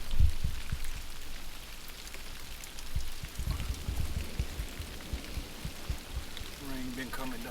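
Rain patters steadily on a tent during stormy weather at Huntsville State Park, a dense soft hiss with scattered heavier drops close by.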